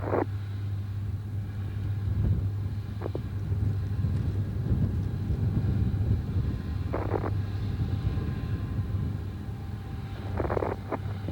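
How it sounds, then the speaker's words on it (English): Space Shuttle Atlantis's engines drive its launch climb through maximum dynamic pressure as a continuous low, rumbling roar mixed with wind buffeting, steady throughout with no talking. "And the engines are throttling back up."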